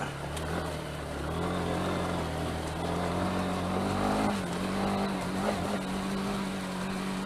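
A motorbike engine drones steadily at low speed while being ridden along a rough countryside byway near Curridge, Newbury, its note wavering slightly as the throttle is eased on and off, with wind noise beneath it.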